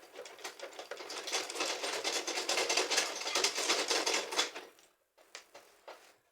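A sewing machine stitching the shoulder seam of a bubu gown, a fast even whirring rattle for about five seconds, then stopping, followed by a few short bursts of stitching.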